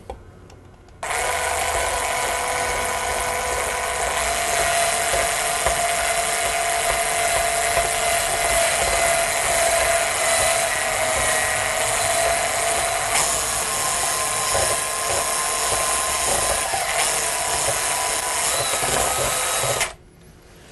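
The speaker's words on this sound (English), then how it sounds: "So there's my egg going in. And I want to blend this in." An electric hand mixer blends an egg into chocolate cream cheese batter, a loud steady high whir running continuously for about nineteen seconds, then cutting off, with no talk.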